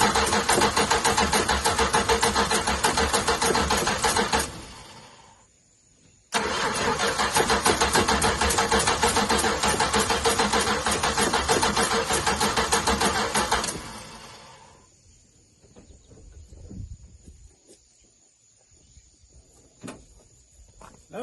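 A 1968 car with a suspected carburetor problem, left sitting, cranks loudly and steadily for several seconds, pauses, then cranks again at length without catching, followed by quieter clicks and rattles.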